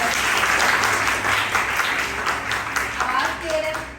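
Students at a school session on hope and perspective clap together in a dense, steady round of applause that fills the whole stretch, with some voices murmuring underneath.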